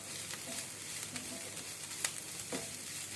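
Chili powder being stirred into onions frying in a pan for coconut burji, a steady close sizzle with soft scraping stir strokes throughout.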